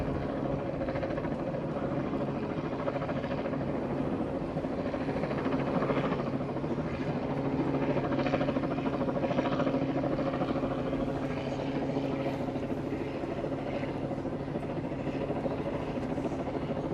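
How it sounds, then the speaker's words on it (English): A helicopter drones steadily overhead at a Liverpool waterfront ship gathering, its rotor thudding in a constant rhythmic whir at moderate volume for the whole stretch. "We'd like to thank the helicopter pilot for hovering directly above us."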